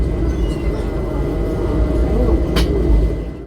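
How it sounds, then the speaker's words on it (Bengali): Hazarduari Express train rolling into Palashi station, a steady loud rumble of wheels and carriage noise heard from inside, with a brief brighter squeal or clank near the end. "ট্রেন পলাশি ঢুকলো।"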